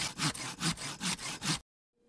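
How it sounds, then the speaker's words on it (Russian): Hand saw freshly set and sharpened cutting through wood in a forest, with six quick, even rasping strokes close by, then it stops abruptly into silence. "Не, нормально вообще, сейчас она пилит быстро."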